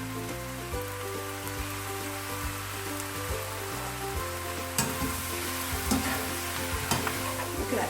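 Stir fry sauce hitting a hot pan with mushrooms, bursting into a dense crackling sizzle close up, with a few spatula scrapes and a low steady hum underneath.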